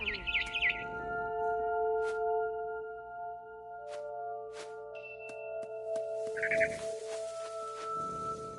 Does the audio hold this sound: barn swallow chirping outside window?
yes